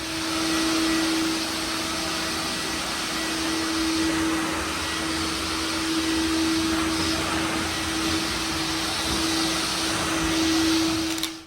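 A floor machine runs steadily while stripping an old VCT tile floor in an industrial hallway, giving a continuous droning whir with a constant tonal hum throughout, close and fairly loud with no talking.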